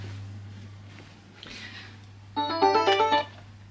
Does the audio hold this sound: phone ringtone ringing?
yes